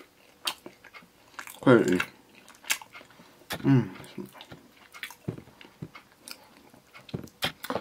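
Close-up biting and chewing of a large date, with two distinct squelchy bites followed by soft, moist chewing and small clicks, while a voice speaks briefly.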